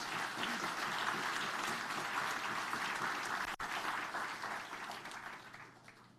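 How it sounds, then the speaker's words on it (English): A conference audience applauds continuously, a dense wash of clapping that holds steady and then gradually tapers off near the end. "Let's give them all a big round of applause."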